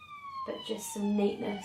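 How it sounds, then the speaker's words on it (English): Emergency vehicle sirens wail steadily in the background, their tones sliding and overlapping while someone talks over them close by. "Sorry about the sirens."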